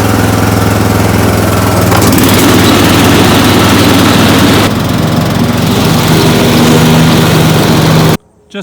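A Craftsman lawn mower engine runs loud and steady with its blades engaged, the drone swelling slightly as the blades load up, then cutting off abruptly near the end.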